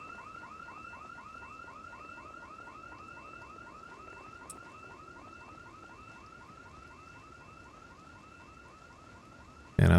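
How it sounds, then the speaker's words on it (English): A car alarm in the Project Zomboid video game wails in a steady, rapidly repeating warble, loud and close throughout with no talk, cut off by a brief burst right at the end. "And I've never gotten so many alarms than I have playing Kenny or Axel"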